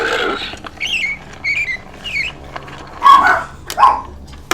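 Pet dogs indoors break into a couple of sharp, fairly loud barks near the end, after a run of chirpy, toy-like animal calls.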